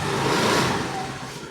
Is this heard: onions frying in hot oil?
no